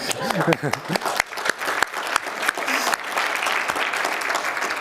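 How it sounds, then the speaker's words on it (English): Audience applause at an annual community event, a crowd clapping steadily through the whole stretch with a voice talking over it at the start. "we should applaud Vivek"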